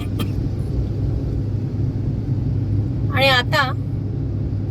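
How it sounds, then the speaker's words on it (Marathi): Road traffic in the rain in Pune: a continuous low rumble of cars and engines with a steady wash of rain, and a brief voice speaking near the end. "ट्रॅफिकला पण सुरुवात झालेली आहे"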